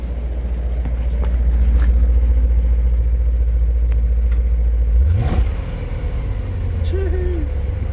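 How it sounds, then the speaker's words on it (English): A BMW E39 M5, its engine fed by individual throttle bodies, idles with a steady low rumble and then gives a brief throttle blip that rises and falls, heard nearby amid background noise. "Give it a rev for me, please"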